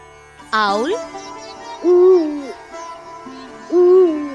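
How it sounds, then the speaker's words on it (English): An owl hoots three times, a rising call followed by two long, low, smooth hoots spaced about two seconds apart, loud and close with nothing else around. "Owl."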